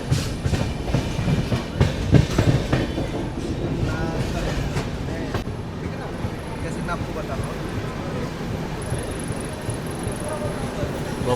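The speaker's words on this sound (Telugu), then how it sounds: "బొబ్బిలి జంక్షన్కి మన ట్రైన్ అయితే ప్లాట్ఫామ్ 4కి అయితే వచ్చింది." The Samata Express, Visakhapatnam to Hazrat Nizamuddin, pulls into platform 4 at Bobbili junction with rumbling wheels and clacking, under the noise of a busy platform crowd.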